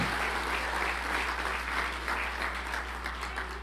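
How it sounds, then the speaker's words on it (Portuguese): A church congregation breaks into steady applause, a dense, even patter of many hands sustained throughout over a low constant hum. "Ele vai agora receber outra vez o nosso aplauso."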